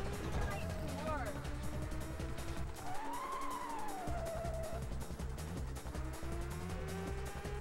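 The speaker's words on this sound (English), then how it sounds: "that earlier car I just passed was the Assoluto Ghepardo" Rage Racer video game car engine roaring steadily throughout with a rising siren-like whine and tire skid tones, as the Assoluto Ghepardo is passed, heard under continuous talk.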